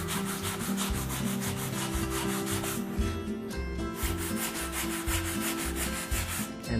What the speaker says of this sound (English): just easier to get this sanded nice and flat and smooth